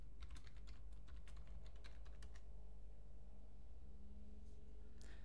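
Rapid clicking keystrokes on a computer keyboard as a root password is entered, a quick irregular burst of taps in the first half, then near silence with one last faint tap at the end, quiet and alone.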